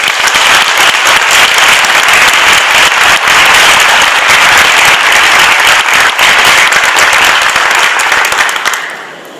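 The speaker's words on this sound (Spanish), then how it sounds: "para quien pido en este momento un fuerte aplauso" Loud, dense audience applause at a tribute ceremony, a sustained roar of many hands clapping that holds steady for several seconds before tapering off at the end.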